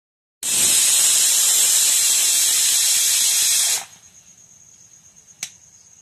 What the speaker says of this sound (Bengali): সেদ্ধ করার জন্য প্রেশার কুকারে বসিয়েছি মাটির উনুনে